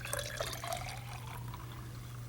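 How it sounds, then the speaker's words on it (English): Water pours into a glass with a steady splashing trickle and drips over a constant low hum, close and moderately loud. "I put the water in the glass."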